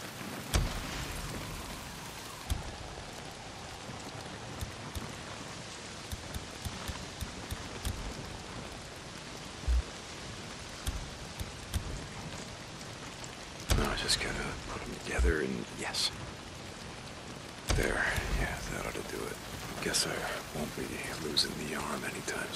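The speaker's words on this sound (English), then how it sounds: "Well, not if it's pissing down rain." Heavy rain hisses steadily over a camp in the Days Gone video game, a dense wash that carries on throughout with occasional soft thumps and brief louder swells.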